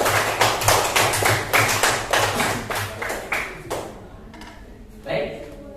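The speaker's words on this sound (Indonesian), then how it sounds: "Tepuk tangan anak-anak untuk kelompok satu." Schoolchildren in a classroom clap hands for a group's presentation, a quick run of sharp, fairly close claps that thins out and fades after a few seconds, with faint voices underneath.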